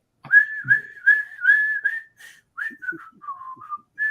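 A person whistles the Benson TV theme tune, a steady, clear melodic whistle with sustained notes and short breaks, close and alone.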